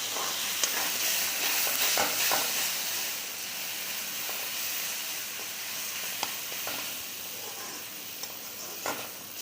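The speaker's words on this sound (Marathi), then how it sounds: "आता त्यामध्ये आपण जे वांग्याचं मिश्रण केलं होतं ते घालूया। चांगलं एकदा परतून घेऊयात।" Brinjal mixture for bharit being sautéed in a pan, a continuous soft steamy sizzle with light intermittent stirring scrapes, moderately close and steady, without speech.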